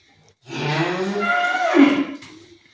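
A cow that has just calved on a farm gives one long, loud, close moo that rises and then falls away, with no other sound around it.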